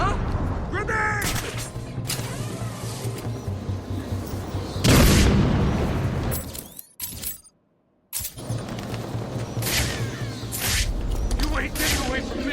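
A grenade detonates in Batman: Arkham City with a loud, booming burst near the middle, followed by a sudden dropout to silence, amid shouting thug voices and busy combat noise before and after.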